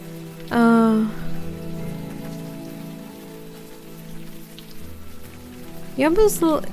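Steady rain falls throughout a scene in the video game Unavowed, a continuous wash under game music, with a voice speaking briefly near the start and end.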